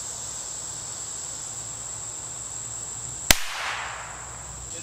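A single sharp, loud shot from CCI Quiet .22 ammunition cracks out near the middle, followed by a brief fading tail, over a steady high insect-like drone and no talk.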